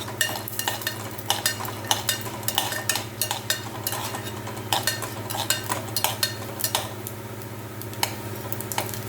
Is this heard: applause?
no